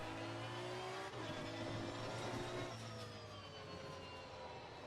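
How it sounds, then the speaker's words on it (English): A V12 race car engine revs hard in the Assetto Corsa Competizione racing game, with a loud, continuous engine roar and rising and falling pitch throughout. No one speaks over it. "Immediately you notice the great noise coming from the V12 engine"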